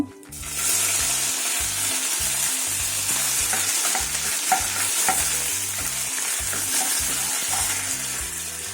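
Curry leaves frying in hot oil for bisi bele bath, a loud continuous crackling sizzle close up with occasional stirring taps, no talking.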